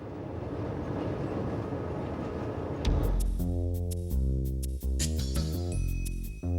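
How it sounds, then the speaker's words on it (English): A Rhaetian Railway train on the metre-gauge Engadine line, hauled by a 1970s–80s SLM-built electric locomotive with BBC equipment: a steady broad rumble first, then a strong rising and stepping tonal whine over the running noise. "train is being hauled by one of the second series machines, which entered service in the 1970s and 80s"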